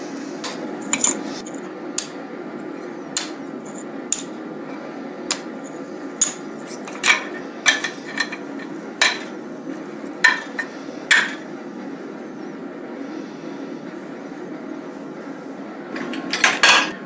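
Bars of 1095 and 15N20 steel are stacked for a Damascus billet, giving a series of sharp metallic clinks and clanks at irregular intervals over a low steady hum, with a quick cluster of clatter at the end.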